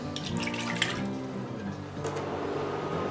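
One cup of water poured into a pot for cherry moonshine syrup, a steady running splash lasting a few seconds, close and alone.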